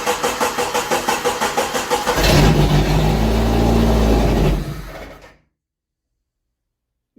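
A 1988 Jeep YJ, abandoned for years, cranks with a rapid even rhythm for about two seconds, then catches and roars into loud, rough revving before cutting off abruptly into silence.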